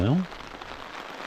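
Rain falling on a surface outdoors at a remote mountain campsite, a steady fine patter after a brief voice at the start.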